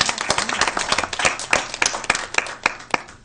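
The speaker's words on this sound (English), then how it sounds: "let's give Janelle a round of applause as well" A small audience at a school board meeting claps for a librarian, a sparse, fairly close patter of individual hand claps that thins out toward the end.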